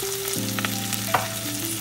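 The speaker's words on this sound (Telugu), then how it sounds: "ఇప్పుడు మనం పచ్చిమిరపకాయలు వేసుకుందామండి. తర్వాత ఉల్లిపాయలు వేసుకుందాం. తర్వాత కరివేపాకు వేసుకుందాం." Green chilies, onions and curry leaves fry in hot oil with a steady, close sizzling hiss and a few soft stirring clicks, beneath a continuous tonal background melody.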